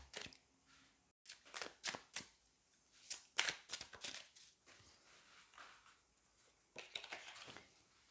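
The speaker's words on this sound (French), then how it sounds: "Allez, on va aller prendre une autre carte." Tarot cards are shuffled and handled in a quiet room, giving soft repeated riffling and slapping bursts with short pauses, close and faint, with no talking.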